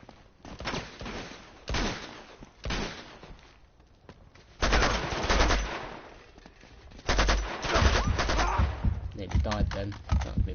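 Bursts of AK rifle fire in the video game Uncharted 2, loud and clustered in repeated volleys with a voice talking in between shots.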